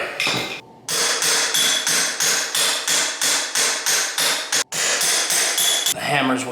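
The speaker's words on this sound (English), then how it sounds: "The hammer's way too loud, it's scaring me." Loud, rapid hammer blows repeat in a steady rhythm, close by, while pulling up carpet, with a brief pause near the start and another near the end.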